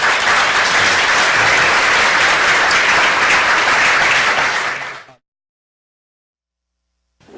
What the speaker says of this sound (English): if I could ask for a round of applause for our speakers